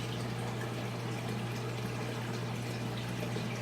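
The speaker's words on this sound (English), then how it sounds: "where the pump just pulls the water up through the pipes and then back into your" An aquarium sump return pump on a seahorse tank pushes water up through pipes, giving a steady, close rush of flowing water over a constant low electrical hum.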